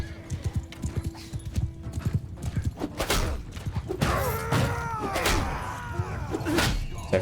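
Cavalry horses thunder across a medieval battle in a strategy video game, a dense rapid clatter of hooves mixed with battle noise and rising animal cries, steady and loud throughout without speech.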